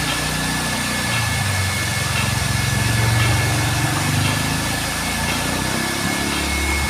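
Machines run in a reverse osmosis water purifier plant, making a loud, continuous engine-like hum and drone with a slight fluctuating pulse throughout. No voices are heard.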